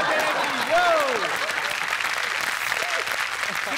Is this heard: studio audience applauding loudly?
yes